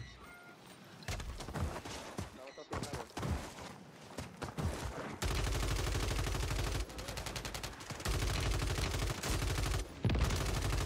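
Gunfire rings out in the video game Warzone 3 (MW3), with scattered sharp shots early on, then long sustained rapid automatic bursts that carry loud and close through the rest of the clip.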